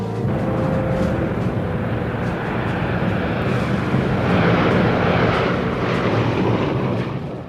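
Giant WWII-era bomber carrying paratroops in flight, its engines giving a steady, loud, continuous drone and roar throughout, with no voices.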